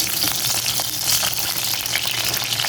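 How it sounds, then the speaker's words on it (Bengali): Five round dried red chillies frying in hot oil over a medium flame, with a dense continuous crackle and sizzle close by and small pops throughout. "এরপর দিয়ে দিব এই যে 5টা গোল শুকনো মরিচ। এখন এটাকে একটু ভাজবো।"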